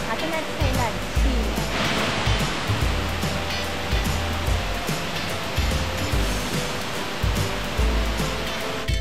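Songlong Rock waterfall at Shanlinxi in Nantou, Taiwan, pours with a loud, steady roar of rushing water that stays close and constant throughout.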